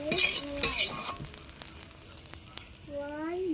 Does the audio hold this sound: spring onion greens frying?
yes